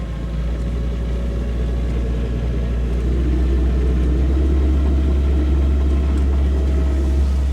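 Sailboat inboard engine held at 2000 RPM driving a new Gori folding propeller, heading upwind in 20 knots: a steady, loud low drone with continuous rumble, no voices.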